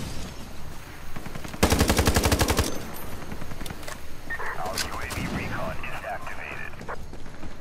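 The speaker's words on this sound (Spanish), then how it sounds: "Hay un güey que está disparando desde aquí." Gunfire in the online shooter Ironsight, heard as a loud, rapid burst of automatic fire lasting about a second, followed by quieter distant shots and game effects. An excited player talks over the action.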